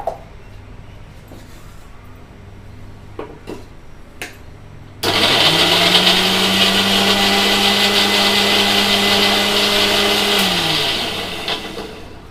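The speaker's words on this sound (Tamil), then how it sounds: "தக்காளியாக அரைச்சாச்சு" After a few quiet clicks, a mixer grinder whirs loudly into action, grinding tomatoes steadily for several seconds before winding down.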